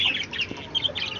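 Short bursts of clucking and squawking from a young rooster and ducks kept on a Chennai rooftop, close and fairly loud, with no talk.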